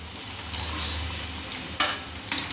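Fried pointed gourd piyaji balls come out of hot oil in a pan while a steady sizzle continues. A few sharp scraping knocks from the utensil stand out near the end.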